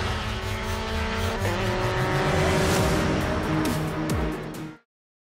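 Mazda MX-5 Cup race cars at Laguna Seca roar close by at full throttle, a dense, loud engine drone with rising and falling pitch as cars pass, tyres squealing in spots, then cutting off abruptly near the end.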